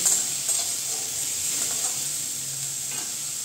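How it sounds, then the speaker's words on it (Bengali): Garlic cloves and black cumin fry in hot oil in a pan, giving a continuous soft sizzle with a few faint stirring scrapes, steady and close, with no talking. "এই যে রসুনগুলো, আর এই যে দিয়ে দেবো কালো জিরা, দিয়ে এগুলোকেও মজিয়ে নিব একটু।"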